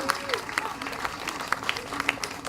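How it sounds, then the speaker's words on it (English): Scattered hand claps from an outdoor Melanoma March crowd in Brisbane patter irregularly at moderate loudness, with voices talking over them. "Can we give them a big round of applause?"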